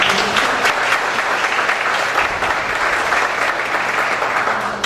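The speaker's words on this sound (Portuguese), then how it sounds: "Uma salva de palmas para você." An audience at an education centre launch event bursts into loud, sustained applause, dense and even from start to finish.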